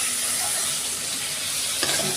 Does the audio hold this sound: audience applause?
no